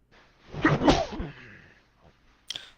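A single loud, sharp human sneeze with a short breathy lead-in and a forceful burst. A faint click follows shortly after in an otherwise quiet room.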